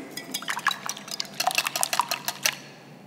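Eggs seasoned with salt and pepper being whisked in a bowl, a quick close series of light clinking, tapping strokes in two short bursts, alone and fairly quiet.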